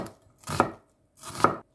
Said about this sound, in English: Then chop 1 piece of medium-sized onion.